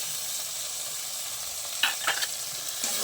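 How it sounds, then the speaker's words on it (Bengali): Spice paste of cashew and poppy seed frying in a pan, a steady close sizzle with a few brief stirring scrapes toward the end. "ভালো করে ভেজে নেবো মশলাটা।"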